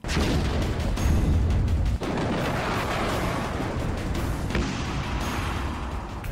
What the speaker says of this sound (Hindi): रॉकेट की बौछार